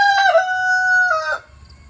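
A rooster crows in a garden, one long, loud, close call held steady for over a second before breaking off, with faint low background noise and no talking.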